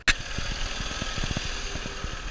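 A 2009 Mini Cooper engine idles rough, a low uneven putter with irregular knocks and thumps after a brief sharp click at the start, heard close and moderately quiet.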